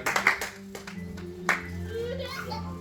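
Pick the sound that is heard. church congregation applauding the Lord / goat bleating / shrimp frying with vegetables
church congregation applauding the Lord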